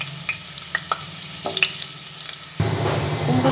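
Pumpkin pieces frying in hot oil in a wok, starting with scattered clinks and light crackles, then breaking into a louder, steady sizzle partway through.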